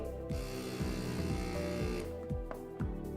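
An electric vacuum pump seals a food container, buzzing steadily with rhythmic ratcheting pulses about every half second that quicken near the end, close and moderately quiet.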